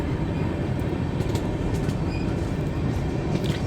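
The Chennai–Bengaluru Shatabdi Express train rumbles steadily through Arakkonam station without stopping at close range, a continuous heavy roar with faint metallic squeaks and rattles, no voices.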